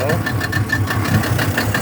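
A used Yamaha 40 horsepower two-stroke outboard motor with electric start runs steadily on a test, a loud, continuous rattling drone heard close up with no pauses.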